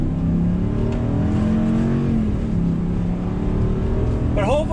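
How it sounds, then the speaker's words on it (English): A 2019 Ram 2500 Power Wagon truck accelerating out of a right-hand bend, its engine droning loud and steady throughout with rising harmonic tones, heard from inside the cab. "Back on throttle."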